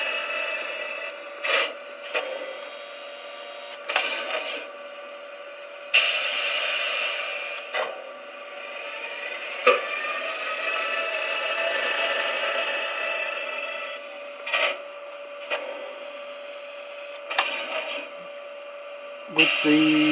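Lenz O gauge DB AG Br141 electric locomotive model running on DCC sound gives a steady humming drone broken by repeated short, sharp crackling bursts, like firecrackers, at irregular intervals.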